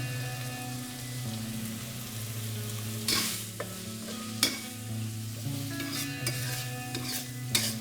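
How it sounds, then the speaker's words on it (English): Onions and carrots sizzle and crackle steadily in a hot wok, with a spatula scraping and clanking against the metal several times as they're tossed. "I'm gonna mix all of these things together in the wok"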